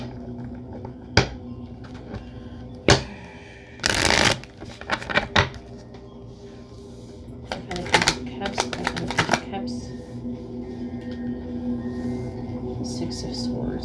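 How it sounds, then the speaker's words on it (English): Tarot cards are shuffled by hand in several quick riffling, slapping bursts close to the mic, separated by short pauses, with a voice talking quietly in between. "Hang on, I gotta shuffle the cards."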